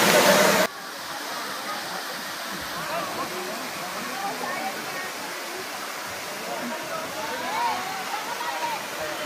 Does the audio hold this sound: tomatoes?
no